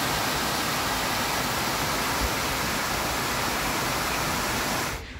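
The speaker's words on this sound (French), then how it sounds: "Le son de l'eau, c'est très apaisant." A waterfall cascades with loud, continuous rushing water, a dense roar that holds steady close by before cutting off at the end.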